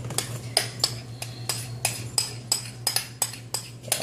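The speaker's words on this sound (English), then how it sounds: "I'm going to transfer my bananas into this pan because I'm going to mix them with the mixer." Mashed bananas for banana bread are scraped from a bowl into a pan with a utensil, a series of sharp metallic clinks and taps at irregular intervals, close and distinct over a low steady hum.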